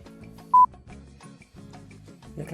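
A single short telephone keypad dialing tone beeps once, loud and clear, over a low steady tonal background, with nothing else standing out.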